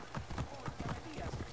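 Horse hooves clip-clop in a steady rhythmic gait in Assassin's Creed Origins while exploring Alexandria, fairly close and moderately loud, with talking over them.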